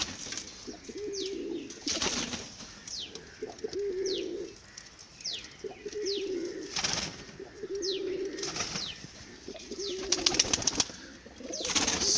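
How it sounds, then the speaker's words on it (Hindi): Healthy, lively pigeons coo in repeated low, throaty phrases, several birds overlapping at close range, with scattered sharper chirps and brief wing flutters between the calls. "जो एकदम तंदुरुस्त कबूतर हैं वो एकदम मज़े से हैं, मस्ती कर रहे हैं।"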